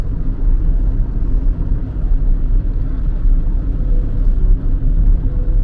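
A car, apparently a BYD running on gas, rumbles steadily nearby as it arrives and moves off, a continuous low engine and road drone with no talk.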